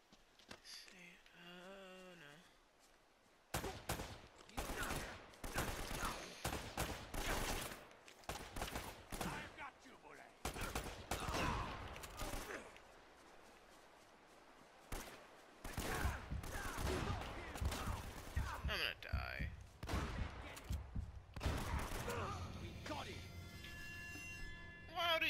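Repeated volleys of gunfire from the video game Uncharted, loud broadband bursts spread across the stretch, with someone talking over and between the shots.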